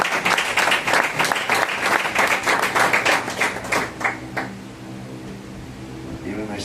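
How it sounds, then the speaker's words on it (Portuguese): Audience applause for a capoeira master at a talk session, steady clapping that fills the first four seconds and then thins and fades. "Eu peço uma salva de palmas agora nesse momento"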